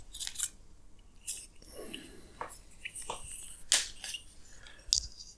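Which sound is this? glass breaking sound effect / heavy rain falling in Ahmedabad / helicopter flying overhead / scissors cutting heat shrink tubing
scissors cutting heat shrink tubing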